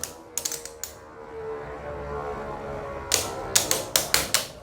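Beyblades Astral Spriggan and Belial spinning against each other in a stadium, with a few sharp early clicks, a low whirring hum, then a rapid run of loud metallic clashes near the end.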